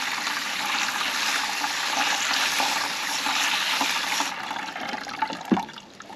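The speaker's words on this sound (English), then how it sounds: "I like to start with a general rinse just to get a lot of that mud off." Garden hose spraying water over tumbled agates to rinse off mud, a continuous close hiss and splash that eases near the end with a brief knock.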